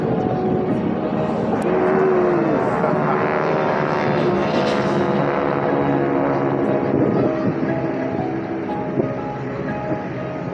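Military jet display team flying in formation at the Jones Beach air show, a loud continuous engine roar that holds steady throughout with a faint whine drifting through it.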